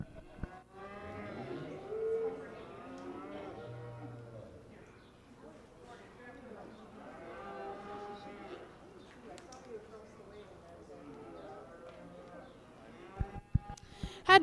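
Shorthorn cattle low in a livestock show ring at a state open and junior show, several drawn-out moos at moderate distance, with people talking quietly in the background and a few sharp knocks near the end.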